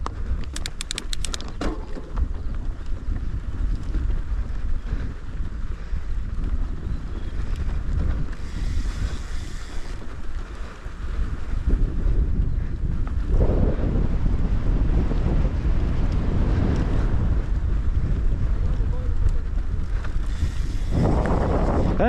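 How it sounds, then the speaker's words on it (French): Strong wind roars and buffets the microphone throughout a mountain bike ride at La Moulière bike park, a continuous loud rushing that swells and gusts. "Il y a du vent, il nous ralentit."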